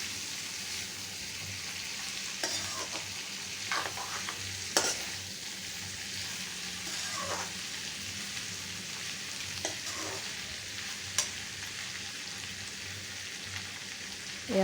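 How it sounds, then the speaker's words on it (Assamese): Local chicken stir-fries with dhekia fern greens over low heat, a soft continuous sizzle broken by occasional spatula scrapes and light clinks against the pan. "লাহে লাহে ঢেকীয়া শাকৰ লগত মুৰ্গীৰ মাংসখিনি ভাজি থাকিব লাগিব"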